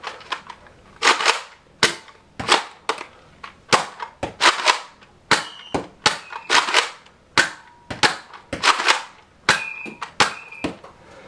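Nerf Elite Rough Cut 2x4 blaster firing darts, first single shots and then slam fire, giving about twenty sharp loud snapping pops in an uneven rapid rhythm, each shot clean and close with no voices.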